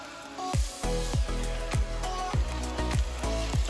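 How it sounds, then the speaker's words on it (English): Rhythmic thumping beats with a steady hiss underneath, about seven regular hits; meatballs frying in a pan sizzle faintly, mostly masked by the percussive pattern. "Oh yeah, that's the sizzle we are looking for."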